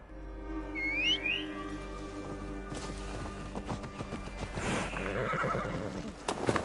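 A horse in Assassin's Creed Valhalla gives a clear whinny, followed by hooves and rustling game ambience, all at moderate volume with no talking.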